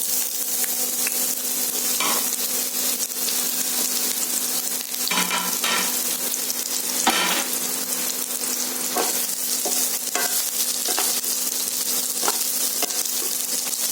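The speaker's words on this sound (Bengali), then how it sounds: "তো এবার ঝিঙেগুলোকে আমি দিয়ে দেবো।" Ridge gourd stir-fries in a hot pan, its loud, constant sizzle punctuated every few seconds by the scrape and clatter of a spatula turning the pieces, close by with no voices.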